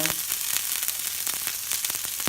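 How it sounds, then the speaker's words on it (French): Cuttlefish sizzling in a hot frying pan as it is stirred, a dense, close crackle with a few sharp utensil clicks and no talking. "Maintenant, on y met nos sèches. On remue."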